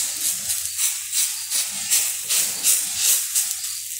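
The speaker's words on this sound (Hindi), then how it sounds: "इस तरह से धीमी आंच में मैं इसे सिकने दूंगी" Lauki and sabudana thalipeeth roasting in a pan on a low flame, giving a steady, close sizzling hiss that pulses gently throughout, with no voices.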